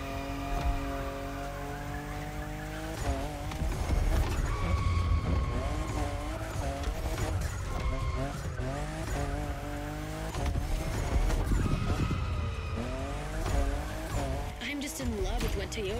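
A Toyota Supra drifting in The Crew Motorfest video game, tires squealing in long wavering bursts over a continuous engine roar, loud and sustained throughout with repeated slides and revs.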